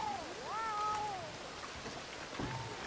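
Cat meowing in the Red Dead Redemption 2 video game, one drawn-out, rising and falling meow near the start, followed by quieter background noise like light rain.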